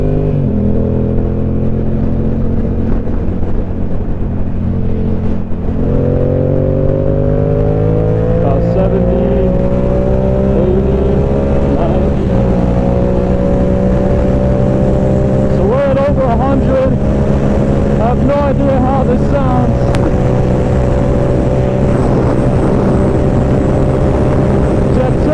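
A Yamaha R7 motorcycle cruising at around 40 mph, its engine drone shifting in pitch as it accelerates, heard close under steady wind rush.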